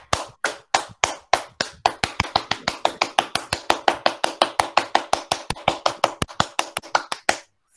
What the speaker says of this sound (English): Now see, I'll clap.